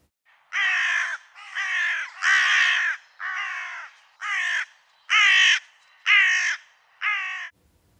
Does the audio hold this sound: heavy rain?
no